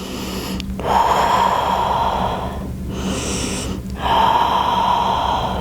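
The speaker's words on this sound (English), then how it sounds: "Come back to your breath. We're here for 2 nice deep breaths." Slow, deep breaths in yoga child's pose, forehead resting toward the mat: three long, steady airy breaths close by, with a hushed breathy tone and no talking.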